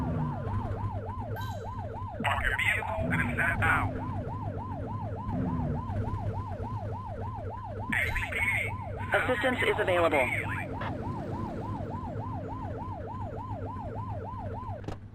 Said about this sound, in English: Get behind them and flip the siren and make them pull over.